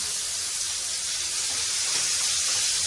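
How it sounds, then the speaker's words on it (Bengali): Fish fries lightly in a pan with a steady, dense sizzle that fills the whole moment, close and even, with no talking. "ফটাফট করে একটু হালকা করে ভেজে নেব খুব কড়া করে ভাজবো না"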